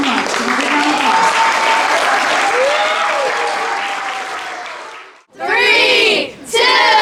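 Audience at a wellness center ribbon cutting applauds loudly and steadily for about five seconds, fading slightly, then after a short gap bursts into more clapping and cheering voices.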